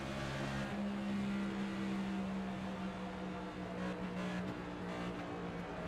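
Race car engine in NASCAR 25 during a Coca-Cola 600 race at full throttle, a steady loud droning roar with a sustained tonal whine that shifts slightly in pitch, continuous for the whole stretch with no talk.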